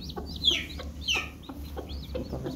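Cochin bantam and Silkie hens cluck and chatter in short repeated bursts against a low steady background hum, fairly close.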